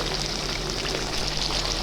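Sea catfish stir-fries over low heat with herbs and thinly sliced Thai eggplant for a spicy pad cha, giving a steady, dense sizzle that fills the short stretch without any talk.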